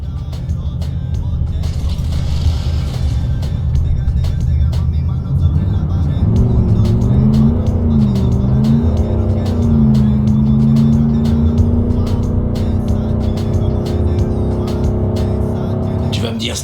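A car in the video game Cyberpunk 2077 drives along with a steady engine hum that rises in pitch as it accelerates partway through, with sharp clicks scattered over it.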